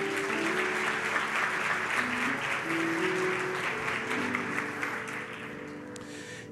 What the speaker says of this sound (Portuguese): Palmas para o Augusto.